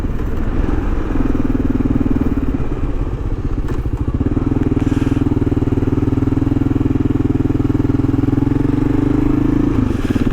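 An adventure motorcycle rides around a roundabout, its engine a loud, close, steady drone that rises into a sustained tone and then settles back.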